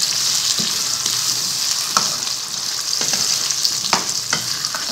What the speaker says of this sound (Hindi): आलूओं को घी और प्याज के साथ, जिंजर गार्लिक के साथ अच्छी तरह से हमने फ्राई करना है 1-2 मिनट